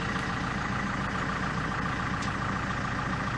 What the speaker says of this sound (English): the car took a little time to start because obviously the fuel filter was empty, but it's clearly started now